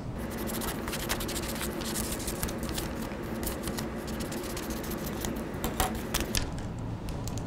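A red pen scratches across a paper card in quick, close, continuous strokes with short scratchy bursts, heard alone without talking.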